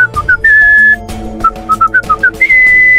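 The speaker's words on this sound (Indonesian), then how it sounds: "Zoro, Sanji, dan Nami bersiul seolah-olah tidak terjadi apa-apa." A whistled tune of short chirping notes and a few sustained tones, loud and close, over a faint busy background with no talk.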